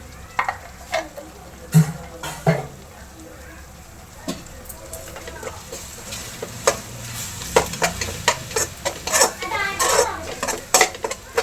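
Ginger garlic paste frying with onions in a pan as a spoon stirs and clinks against the metal, a low sizzle under repeated sharp scrapes and knocks, with a voice and talking in the background.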